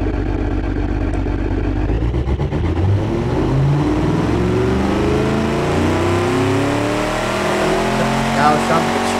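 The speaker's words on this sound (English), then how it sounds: "Sounds like a diesel." A pickup truck's diesel engine revs loudly and close, its deep droning pitch sweeping upward as it accelerates, with people talking over it.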